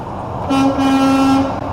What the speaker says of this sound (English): I'll give you some air horn